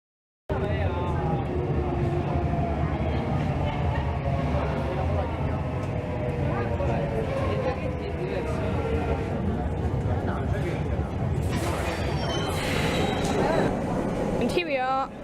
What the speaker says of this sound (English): That train is very crowded.